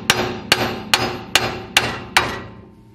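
Six evenly spaced, loud metallic hammer blows strike a car brake rotor up close, each ringing briefly before the next, with no voices.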